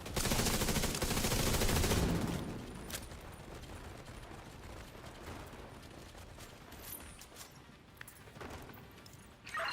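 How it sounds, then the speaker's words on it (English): Gunfire in a video game during casual PvE play: a loud burst of rapid, continuous automatic shots over the first two seconds, then scattered fainter shots and in-game clatter. "Was that gunfire?"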